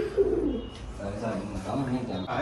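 Pigeons coo softly around a new wooden pigeon box, their low murmuring calls steady and close throughout the short stretch, with faint chirps mixed in and a light background hum.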